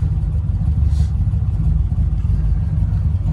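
A numbers-matching 1969 Chevrolet Camaro Z/28, not fully warmed up after sitting a while, idles with a steady, deep exhaust rumble throughout, close and fairly loud, with no talking.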